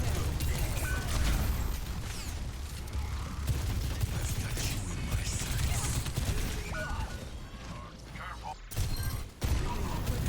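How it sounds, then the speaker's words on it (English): Weapon reloading in a first-person shooter, with mechanical clicks and ratcheting clacks over dense, loud game action and effects, and a brief sharp dropout near the end. "Why are you looking into the wall while reloading?"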